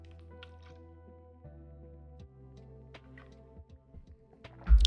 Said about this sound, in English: we're going to take a drink of water.